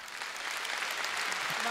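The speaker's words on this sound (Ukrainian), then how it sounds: "Вам також аплодисменти." An audience claps steadily at a televised concert and tribute event, a dense, even wash of applause that holds throughout without letting up.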